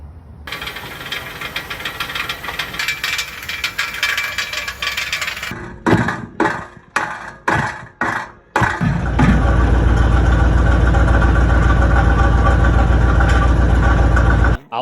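Car exhaust with broken, fragmented catalytic converter ceramic, idling with a steady drone, then a burst of loud metallic knocks and rattles before a deep, heavy engine rumble takes over.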